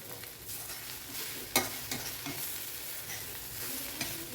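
Cluster beans poriyal frying in a pan, with a steady soft sizzle and occasional scraping stir strokes, one sharp clack near the middle, close and alone without talk.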